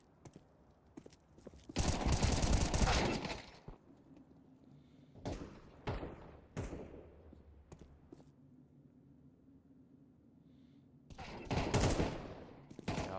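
Gunshots in the video game Counter-Strike 2 come as loud bursts of rapid automatic fire near the start and end, with scattered single sharp shots between them over a quiet background.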